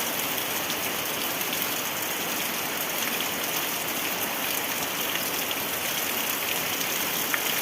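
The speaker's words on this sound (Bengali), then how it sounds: "অনেক দিন বাদে এভাবে জোরে বৃষ্টি নামলো" Heavy evening rain pours down in a dense, even hiss that lasts the whole time, with no pauses and no voices.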